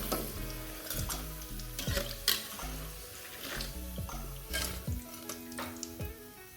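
Pisang sale, dried banana slices, fry in hot oil with a steady sizzle, broken by occasional sharper crackles and the clink of utensils stirring the pan.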